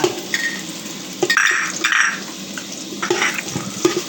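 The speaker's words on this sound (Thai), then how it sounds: "เอาสิ่งที่เราเตรียมไว้ค่ะ คือ คา ตะไคร้รากผักชีค่ะ ลงไปผัดค่ะจะได้หอมหอมค่ะ" Galangal, lemongrass and coriander root stir-fried in a pan for an old-style Thai braised pork-leg dish, with soft sizzling, intermittent clinks and scrapes of a spatula against the pan, close and moderately loud, no talking.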